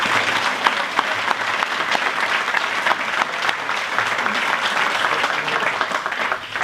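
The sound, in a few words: audience applause for award finalists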